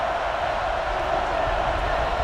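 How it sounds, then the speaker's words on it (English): Steady, dense stadium crowd roar from NCAA Football 09, a sustained wash of cheering during a third-and-short defensive stand, loud and unbroken throughout with no talk over it. "the crowd is just going ballistic in support of their defense right here on 3rd and short"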